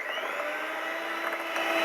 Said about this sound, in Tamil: இப்போ சாக்லேட் எல்லாத்தையுமே உள்ளார சேர்த்துட்டு இன்னும் ஒரு 2 நிமிஷத்துக்கு இதை நல்லா பீட் பண்ணிக்கோங்க